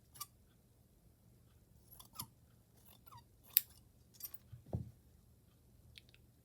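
Scissors snip white fabric scraps for a sewing project, a handful of quiet, separate cuts spread out irregularly and heard close up with no talking.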